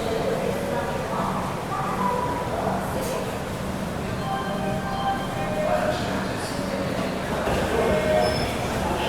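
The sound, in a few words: Patliputra Superfast Express train leaving Itarsi Junction, heard from 2AC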